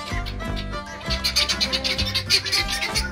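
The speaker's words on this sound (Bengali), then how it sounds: "এরম পাখির মুখ থেকে যে এরকম শব্দ বেরোতে পারে।" A bird calls at a resort mini zoo in Bankura, an odd, loud, close series of rapid chattering and squawking notes, the last stretch breaking into quick pulses without pause.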